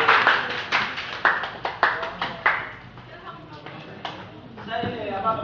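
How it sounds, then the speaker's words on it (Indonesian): Applause from an audience at a stand-up comedy open mic night in Cikarang: a run of loud, sharp clapping bursts that fades into a thinner patter, with a voice talking over the end. "tepuk tangan dulu untuk Debangor."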